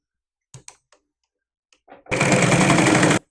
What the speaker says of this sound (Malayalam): ആദ്യമേ ഒരു 1/2 ഇഞ്ചിൽ ഇതുപോലെ ഒന്ന് സ്റ്റിച്ച് ചെയ്തെടുക്കാം